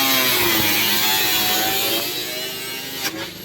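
A power saw cuts an opening for the shifter in a bobbed hot rod's floor, a loud continuous high-pitched buzzing cut that tapers off slightly toward the end.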